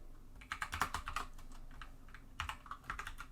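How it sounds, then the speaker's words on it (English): Computer keyboard typing code, two quick bursts of close clicky keystrokes separated by a short pause, alone without talk. "God, I can't type."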